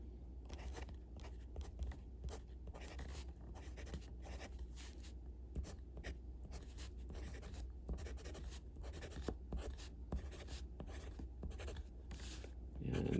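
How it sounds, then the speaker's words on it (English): A vintage Filcao Kamaleon fountain pen with a medium nib, inked with Kaweco Caramel Brown, scratching steadily across paper in close, quiet strokes with brief pauses between words. "let's do a little writing here"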